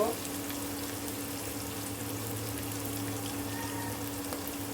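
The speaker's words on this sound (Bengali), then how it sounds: "এগুলোকে আমি গোল্ডেন ব্রাউন করে ফ্রাই করে নিব।" About a cup of onions fries in oil on the way to golden brown, giving a low, even sizzle with faint bubbling that stays constant and fairly quiet throughout.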